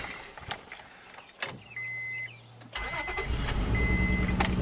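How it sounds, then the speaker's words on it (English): A Honda Odyssey engine with a misfire cranks, catches and settles into a rough idle, preceded by a few clicks and knocks and a brief whirring motor, heard up close without talk. "So let's start it up, see how it runs, see if it has a misfire right now."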